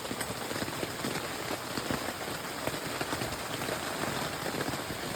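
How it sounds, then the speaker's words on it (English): Heavy rain pours steadily onto a wet tent during a winter night on a mountain hike, a dense, close patter that holds loud and even throughout with no talking. "4 something a.m. and the skies have opened. Everything it's wet. Inside the tent is wet. You can see the rain."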